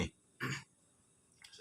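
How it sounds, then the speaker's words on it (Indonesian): A person coughs and chokes in two short, rough bursts a moment apart, close and fairly quiet, with a faint breathy rasp at the end. "gue batuk, ini gue kesedak ini"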